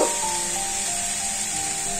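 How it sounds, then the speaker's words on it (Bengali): Garlic and ginger fry in hot oil with ground turmeric, giving a steady, loud sizzle that runs evenly throughout with no talking. "রসুন আদা ভাজা হয়ে গেল। এর মধ্যে আমি 1 চামচ গুঁড়ো হলুদ দেব,"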